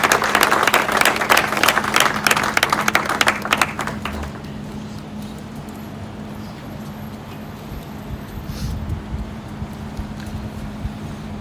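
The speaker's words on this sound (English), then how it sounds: "A round of applause, please." A live audience claps loudly and densely for about four seconds at a celebrity gathering, then the applause drops away, leaving a quiet room with a low steady hum.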